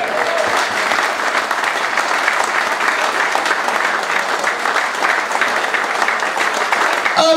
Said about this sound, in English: show your appreciation with your applause